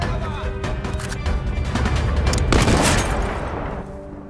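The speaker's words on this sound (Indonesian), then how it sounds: "Melihat itu, Scud langsung menembak cermin tersebut." A sniper rifle shot and shattering mirror in a war film set against German troops and mortar fire, a dense burst of crashing impacts and breaking debris, loud and close, with a narrator's voice over it.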